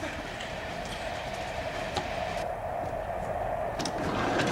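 A train carriage rattles along the rails in a steady, continuous rumble with faint clicking, a constant moderately loud interior ride noise with no voices over it.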